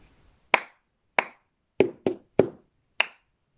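Two hand claps, three quick drumming hits on the floor, then one more clap, the opening of the cup song pattern, played as six crisp, close percussive strikes in even rhythm with no voices.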